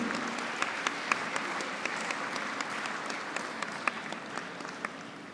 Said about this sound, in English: Let the applause continue.